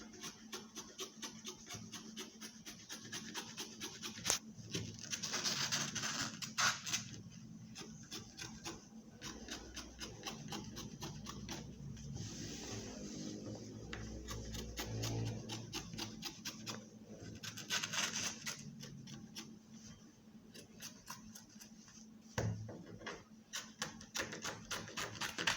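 Scissors cut out fabric for an off-shoulder dress, a steady run of close, soft rasping snips and rubbing scrapes across the cloth, continuing without talk with a few brief louder bumps.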